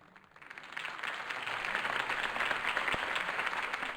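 A video game crowd in Batman: The Telltale Series breaks into applause, building quickly from quiet into a dense, sustained wash of clapping that continues steadily.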